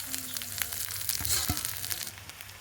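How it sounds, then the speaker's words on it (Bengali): Onions drop into hot oil in a pan on the stove, giving a close, quiet sizzle with short crackles and a few brief clatters, and no speech. "গরম হয়ে গেছে, আমি পেঁয়াজ দিয়ে দিব"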